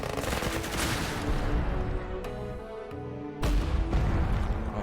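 Bursts of rapid gunfire from enemy units in a tactical defense strategy game, dense fusillade-like volleys broken by a short lull and then a sudden loud resumption.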